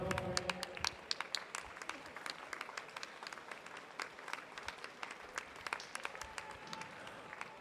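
Spectators at a county swimming meet applaud a swimmer finishing a long race, a steady wash of distant clapping from the crowd with faint voices mixed in.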